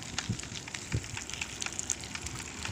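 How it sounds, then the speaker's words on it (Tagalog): Evening rain falls steadily on a wet road, a continuous close patter of drops with a few louder splashes, and no voices. "Umuulan na naman."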